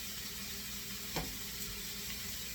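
Vegetables for a monkfish, Swiss chard and sesame seed paella sauté in a pan over lowered flame, a soft continuous sizzle with one brief stir-like rustle midway.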